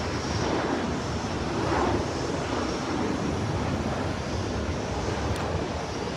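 Planes taking off at London Heathrow airport, a continuous broad roar of jet engines blended with heavy wind buffeting on the microphone, steady and sustained without speech.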